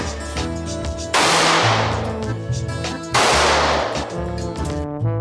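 Kalashnikov rifle fire rings out in two loud bursts, each a sharp crack followed by a decaying rattle, set over a steady musical backing.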